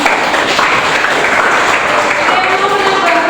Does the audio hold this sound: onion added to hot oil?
no